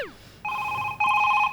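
A telephone rings in a sitcom scene, starting with a short sweeping tone and then sounding loud steady electronic beeping rings that jump louder near the end, close and clear with no talking over it.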